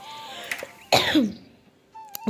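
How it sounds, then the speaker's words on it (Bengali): A woman who is unwell coughs harshly in a single loud burst, close to the microphone, with a short throaty rasp and quieter household background on either side. "দেখো এখন বয়স দিয়েছি তাই তো আমার খুব কাশি হচ্ছে"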